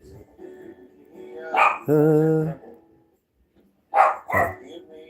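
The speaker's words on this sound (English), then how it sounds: "The dog's being noisy because the other person in the home has to go quickly out" A dog makes a noisy fuss at the door: short close barks and whining yelps in two bursts separated by a pause, with some talk before it.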